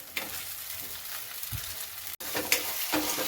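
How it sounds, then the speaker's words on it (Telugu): Ginger garlic paste masala sizzles in a pan while being stirred, a close, steady frying hiss broken by scraping spoon strokes and a brief dropout, with no one talking. "సిమ్లో అయినా హైలో అయినా దగ్గరుండి కలుపుకుంటూ ఫ్రై చేసుకోండి."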